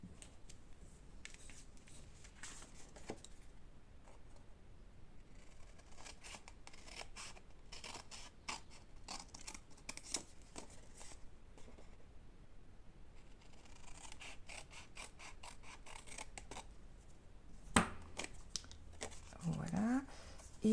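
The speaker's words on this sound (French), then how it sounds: "Et après, nous allons venir découper cette partie-là." Scissors cut through a paper bookmark card in a series of close snips and slicing strokes, with someone speaking French quietly over much of it and a crinkle of paper near the end.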